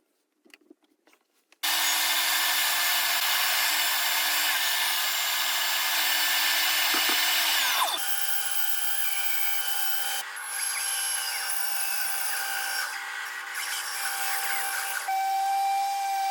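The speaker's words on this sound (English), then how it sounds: "So I'm just going to rip some plywood for the legs here, for the fold out legs." A power saw rips through a sheet of plywood, cutting strips for the fold-out legs of a portable router table; after a brief start-up the loud, steady whine runs continuously with slight shifts in pitch as the cut progresses.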